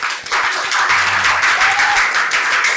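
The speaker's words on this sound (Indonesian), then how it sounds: "Ya, tepuk tangan." Applause fills a training session, a dense steady patter of clapping that carries from start to finish with no voices.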